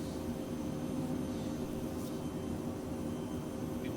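Steady broadband roar of Phenom business jet engines being worked on the throttles in a flight simulator, with gusty conditions on approach; a continuous, even cabin drone with no talk.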